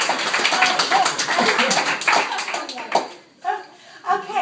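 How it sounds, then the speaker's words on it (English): A family reunion crowd claps together indoors, with dense applause from many hands that thins out near the end as voices and chatter come through. "let's applaud"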